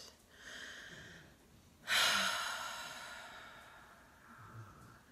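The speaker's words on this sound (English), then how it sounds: "breathing in and out" Slow, soft breathing in and out during a calm guided trance meditation, with a quiet inhale, then a fuller, louder exhale that tapers off, heard alone and close.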